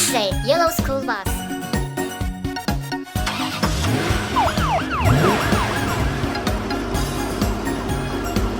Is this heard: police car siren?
yes